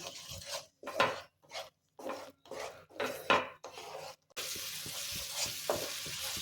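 A spoon stirs pav bhaji gravy with masala, butter and oil in a pan, giving repeated scraping strokes and sizzling bursts in an uneven rhythm, close and fairly quiet, ending in a steadier sizzle.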